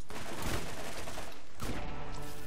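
Video game gunfire from Borderlands rattles in a rapid, dense burst, pauses briefly, then resumes with another quick volley, loud and close.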